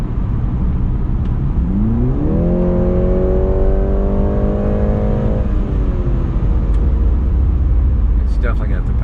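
A 2020 BMW 330i with its four-cylinder engine, heard from inside while driving: steady road and engine hum with a rising note as it accelerates, then holding a steady pitch.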